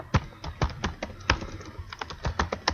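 Typing on a computer keyboard, a run of sharp, uneven keystroke clicks close by, bunched in quick bursts with brief pauses between them.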